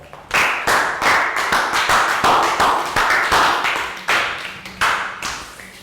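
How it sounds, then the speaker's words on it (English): Children in a Year 3 maths classroom clap for a classmate, a series of sharp, regular, fairly loud claps with a few brief pauses near the end. "Round of applause for Prao."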